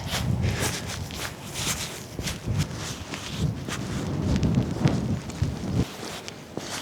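Steady rain with gusts of wind during a wet countryside walk through farm fields in Scotland, continuous hiss mixed with close rustling and footsteps, no talking.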